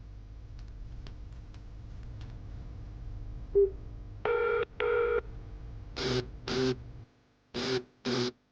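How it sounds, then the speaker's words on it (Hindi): Electronic telephone tones ring out with no answer: soft faint beeps, then pairs of loud buzzing ring bursts that repeat with short gaps, alone without any voices. "फोन उठाओ मैम।"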